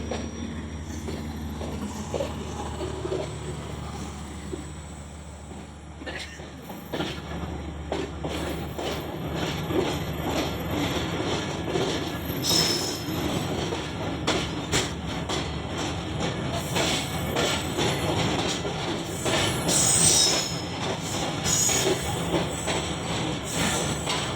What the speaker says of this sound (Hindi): HEMU 30R 12 टाउन हज़ारा एक्सप्रेस को लीड कर रहे हैं।